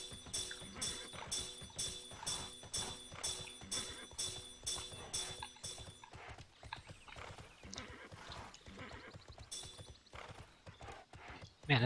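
Rhythmic video game horse hooves clip-clopping at a steady trot, closely recorded, with a horse neighing partway through.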